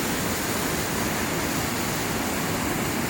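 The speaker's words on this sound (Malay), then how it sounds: "Sampailah kita di air terjun." The Lasir waterfall at Tasik Kenyir roars as a steady, loud, dense rush of falling water, unchanging from start to finish with no voices.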